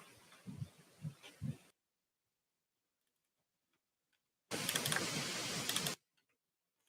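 Clicks of someone typing on a computer keyboard, a few sparse taps followed by a short, dense burst of rapid keystrokes, fairly close and alone.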